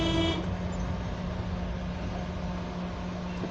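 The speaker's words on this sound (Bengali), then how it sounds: "হরেন দেন হালকা ব্রেক" A car horn gives a short honk at the start while a car is driven during a driving lesson, followed by a steady engine hum inside the vehicle.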